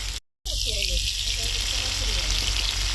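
Potatoes with salt frying in oil in a pan, with a loud, steady crackling sizzle that starts abruptly after a brief dropout and keeps going.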